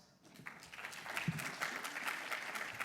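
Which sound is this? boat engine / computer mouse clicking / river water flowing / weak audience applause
weak audience applause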